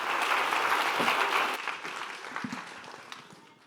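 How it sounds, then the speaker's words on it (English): Audience applause for panelists at a women's leadership event, fairly full at first, then thinning and fading out over a few seconds. "a big round of applause for our panelists, please"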